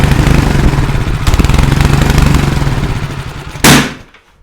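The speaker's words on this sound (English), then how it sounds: "Did you see that backfire?" A repaired snowblower engine runs loud and close with a rapid rough putter, then a single sharp, explosive backfire bang near the end before the engine dies away.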